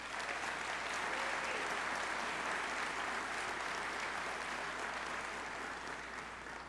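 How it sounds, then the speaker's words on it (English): Graduation ceremony audience at Seneca College in Toronto applauding faculty and staff: dense, sustained clapping from a large crowd that holds steady and eases off slightly at the end. "let's give them all a big round of applause"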